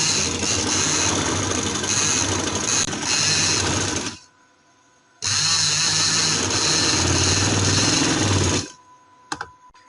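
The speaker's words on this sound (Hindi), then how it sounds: "इस जगह पे हम सिलाई लगाएंगे।" A sewing machine runs in two long bursts of fast, even stitching on trouser fabric, separated by a short pause, then a few brief clicks as it stops.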